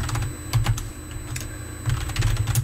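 Someone types code on a computer keyboard, close clicking keystrokes in uneven bursts and pauses, with no talk over them.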